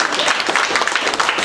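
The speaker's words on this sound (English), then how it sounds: "the audience will reward us by giving us a huge round of applause" A live audience breaks into brisk, dense clapping that holds steady throughout the short stretch, with no talking over it.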